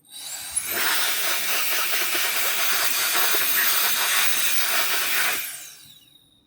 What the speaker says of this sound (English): it's like an air blower, and it's quite good